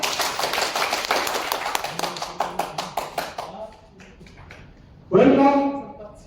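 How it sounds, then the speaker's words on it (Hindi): Applause from a seminar audience, a burst of loud claps that thins into scattered, slowing claps before fading, then a voice speaks over a low room tone. "सभी जना पूर्व एरिया के लिए जोरदार ताली बजाता"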